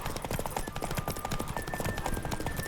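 Horse hooves gallop in The Witcher 3, a fast continuous clatter of hoofbeats with a steady rhythm, close and loud under game ambience.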